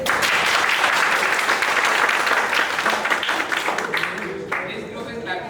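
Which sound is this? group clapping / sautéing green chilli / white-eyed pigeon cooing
group clapping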